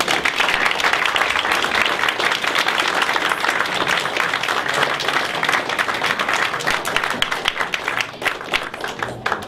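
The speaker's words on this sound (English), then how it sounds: "how about a great round of applause?" A large audience gives a sustained round of applause for a waste management CEO, dense steady clapping filling the room for about nine seconds before thinning slightly at the end.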